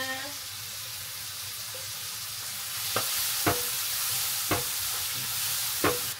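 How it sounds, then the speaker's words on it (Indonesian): A pan of spice paste for beef balado fries with a steady, bright sizzle. A utensil scrapes and taps through it at a few uneven moments, close up with no voices. "Lalu aku tumis bumbunya."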